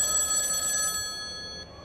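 An old rotary telephone bell rings in a steady metallic trill that fades slightly toward the end, played alone without voices.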